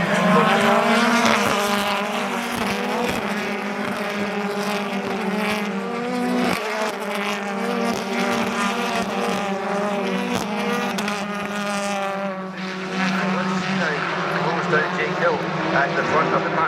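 BTCC touring race cars at Knockhill circuit in 2025, engines roaring and droning as they pass with shifting pitch, heard under continuous commentary.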